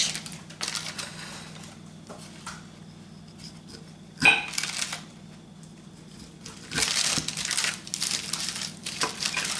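A knife cuts a wedge from a whole roasted cauliflower. Scattered crunchy cracks and crumbly scraping come in short bursts, with one sharp snap midway and a denser crunching stretch toward the end, all close and without speech.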